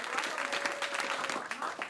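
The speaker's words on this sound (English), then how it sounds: "give our BVI sisters and brothers an applause" An audience at a climate change and environmental legislation side event in Antigua and Barbuda applauds a visiting delegation, a steady patter of many hands at moderate level with some voices mixed in.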